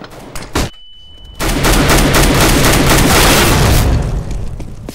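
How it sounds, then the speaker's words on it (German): A CS:GO flashbang detonates with a loud sudden blast, followed by a high ringing tone and then a sustained roaring burst of noise, preceded by a couple of short impacts. "Flashbang!"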